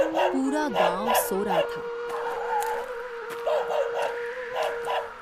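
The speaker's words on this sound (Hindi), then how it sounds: "बाहर कुत्ते भौंक रहे थे।" Dogs bark and yip outside at night in short bursts, mixed with whimpering tones over a steady background hum, while a narrator speaks over them.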